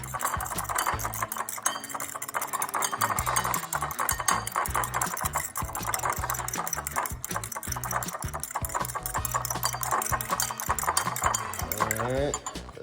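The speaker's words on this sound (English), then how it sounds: "Get a fork. Scramble that egg up." A fork whisking an egg in a bowl, quick rhythmic clicking and scraping that goes on steadily for about thirteen seconds, close and fairly loud.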